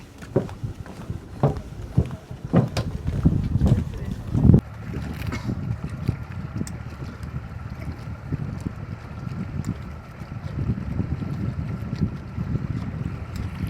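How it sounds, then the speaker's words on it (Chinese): A small boat on the Sian Ka'an lagoon near Tulum, Mexico, gives a low rumble under gusting wind that buffets the microphone, with a few sharp knocks early on. "这就是我们今天要坐的小船。"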